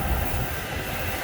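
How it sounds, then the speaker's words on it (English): Train wheels rumbling steadily on rails as a passenger gets off the train, a loud, continuous low roar with no breaks and no talk. "Just getting off the train"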